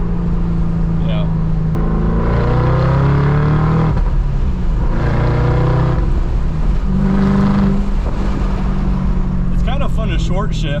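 A 2014 Shelby GT500 with a Borla ATAK exhaust revving and accelerating through gears, a loud rumbling roar with rising and falling pitch, while someone talks over it.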